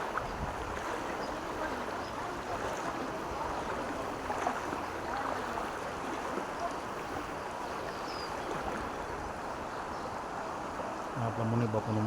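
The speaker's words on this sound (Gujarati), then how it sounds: "આટલા પાણી જાય છે અત્યારે રસ્તા ઉપર." Floodwater rushing across a village road after heavy rain, a broad steady roar of flowing water, heard outdoors with some wind.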